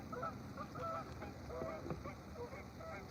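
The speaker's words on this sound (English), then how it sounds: "the geese are acting up in the shoreline over there" Geese honking along a lake or river shoreline in southeastern Minnesota, several scattered calls at a distance, faint against a low wash of outdoor ambience, with no voices during the calls.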